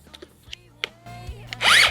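A Dnipro-M CS 12 battery mini chainsaw gives a few quiet clicks and handling knocks, then a single short, loud motor whir that spins up and winds down near the end.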